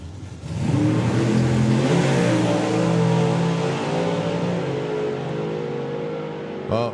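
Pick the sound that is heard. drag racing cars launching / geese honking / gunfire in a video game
drag racing cars launching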